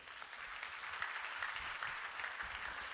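An audience at an Atomy success seminar applauds in a sustained, fairly soft wash of clapping that holds evenly for a few seconds, with no speech over it.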